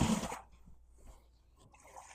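Water poured into a container for a turkey brine gives a brief splashing rush at the start, then fades to a faint, soft trickle and drip in a quiet room.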